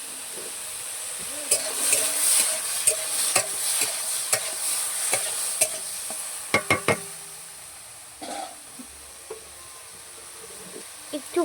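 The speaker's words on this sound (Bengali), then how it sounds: "ভালো করে নাড়তে হবে।" Tomato and chili curry is stirred in a hot pan, with a steady frying sizzle under repeated scraping and clacking strokes of a spoon, some of them sharp and close, until the stirring eases off.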